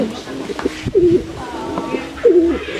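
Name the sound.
pigeons cooing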